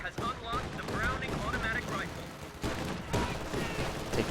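AA half-track autocannon in a video game pounding a capture point with rapid, overlapping bursts of gunfire, loud and continuous, while a commentator talks over it.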